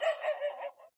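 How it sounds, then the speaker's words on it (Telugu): One dog barks from a short distance in a village at night, a quick run of a few yaps lasting about a second against an otherwise quiet background. "ఇంకొక కుక్క అరుస్తుంది."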